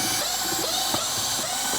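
Screws being driven out of the back panel of a Bobcat controller base, a steady whirring ratchet-like buzz of a small screwdriver running continuously and close up, no voices.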